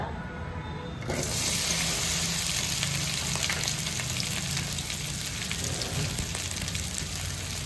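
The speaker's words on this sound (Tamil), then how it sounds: "எண்ணெய் ஊற்றிட்டு வெண்டைக்காவை நல்லா வதக்கிக்கலாம் நம்ம" Okra sautéed in hot oil for vendakkai mor kuzhambu bursts into a loud, dense sizzle as it hits the pan after a quiet second, then crackles steadily and close up.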